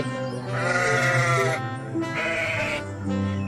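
A cartoon goat in a Hindi moral story bleats loudly in two long wavering cries close up, followed by a shorter third bleat.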